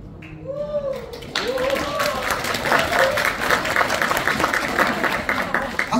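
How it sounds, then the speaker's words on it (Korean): Applause from a crowd at a Korean political rally: a voice speaks briefly, then dense, continuous clapping swells and holds steady and fairly loud to the end. "박수를 치려면 제대로 쳐 이럴 텐데."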